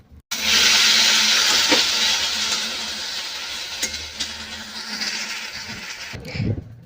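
Bitter gourd with potato and a little sugar is stirred while frying in a pan, giving a loud, continuous close-up sizzle and hiss that fades slightly toward the end, with occasional scrapes and no talking.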